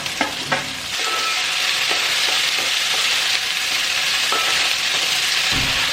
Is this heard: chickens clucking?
no